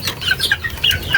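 Chickens cluck in short, repeated calls at close range, several birds overlapping in a busy, uneven rhythm with no one talking.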